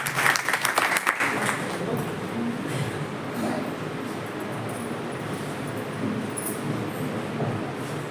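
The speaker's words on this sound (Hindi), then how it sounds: "एक बार सर के लिए जोरदार ताली।" An audience at a college parents' day event applauds loudly for a guest speaker: a burst of dense clapping at first, then a steady wash of applause that carries on for several seconds.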